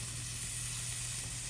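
Fatty burger meat sizzles in a frying pan on the stove, giving a steady, close, even hiss with no voices over it.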